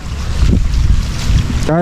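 Strong typhoon wind and heavy rain during a flood, a loud, steady roar of gusting wind buffeting the microphone with rushing water beneath, continuous throughout and up close.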